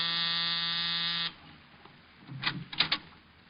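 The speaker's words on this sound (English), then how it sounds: "A half hour after I left George Victor, I was punching the buzzer to Saxon's apartment." An apartment door buzzer gives one loud, steady electric buzz of a little over a second and then cuts off, followed by a quiet pause and faint scuffing handling sounds.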